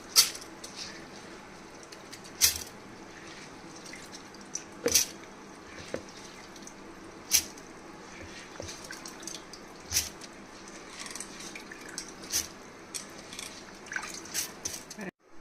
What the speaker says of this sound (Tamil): மிக்சியில் எடுத்து போட்டுப்போம்.